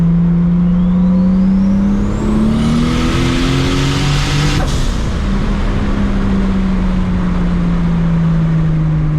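A 750 hp MkIV Toyota Supra engine revs up hard, pitch climbing steadily, then shifts and keeps pulling; loud, close and continuous with no talking.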